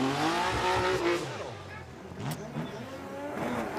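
A drift car at Formula Drift Japan goes sideways, its engine revving loud and rising with tire noise, while a commentator talks over it.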